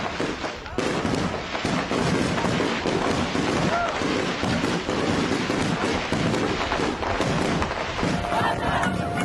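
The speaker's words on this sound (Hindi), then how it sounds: "अमरीका का यौम आज़ादी, मुख्तलिफ रियासतों में आतिशबाजी का मुजाहरा।" Fireworks displays mark US Independence Day. Dense, continuous booms and crackles pile up for the whole stretch, loud and busy, with a voice talking over them.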